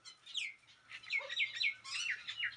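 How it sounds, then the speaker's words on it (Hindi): Small courtyard birds, including doves, mynas and sparrows, giving a quick run of bright, high chirps and short tweets at close range, with a soft low hum underneath. "बर्ड्स मेरे आंगन में रहती हैं, आती हैं, जिसमें से घुघुती है, सिंटुलिया है, मैना जिसे कहते हैं आप, और गौरैया है।"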